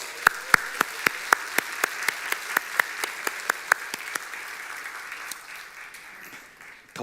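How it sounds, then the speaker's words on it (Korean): Church congregation applauding a sound director during a Sunday service: a steady run of loud, distinct claps over a softer wash of many hands, thinning and fading toward the end. "열광적인 박수를 해주시기 바랍니다"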